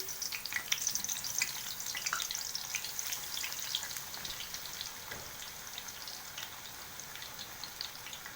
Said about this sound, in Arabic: احنا بنقلي البتنجان مع بعض اهو